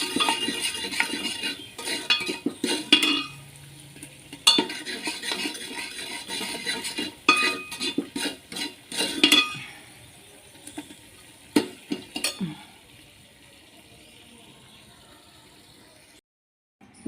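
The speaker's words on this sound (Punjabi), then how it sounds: "ਥੋੜਾ ਜਿਹਾ ਹਲਾ ਕੇ ਮਸਾਲੇ ਚ ਭੁੰਨ ਕੇ ਬੜੀਆਂ" Vadiyan are stirred and roasted with spices in a pan, with a spoon scraping and clinking against the metal in close, uneven bursts. The stirring fades to sparse taps and near quiet toward the end.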